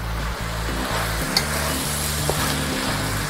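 Peeled raw prawns for shrimp chow mein sauté in a hot pan, a loud, steady, close sizzle with a low hum underneath and a couple of faint ticks, no speech.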